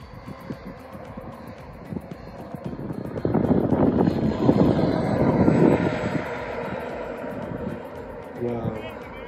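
A miniature remote control airplane comes in to land outdoors, its small motor whining and rising into a louder drone mid-clip before easing off, with a voice speaking over it.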